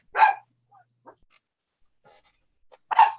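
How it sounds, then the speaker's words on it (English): A dog named Prancer gives two sharp, close barks about three seconds apart, with faint small noises in the quiet between them. "Go outside if you want to bark, Prancer."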